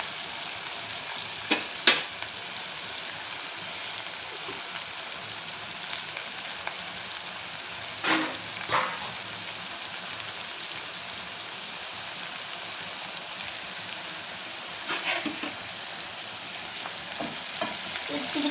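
Drumstick leaves (murungai keerai) sautéing in a pan, a steady close frying hiss with occasional sharp scrapes and clinks of a stirring utensil.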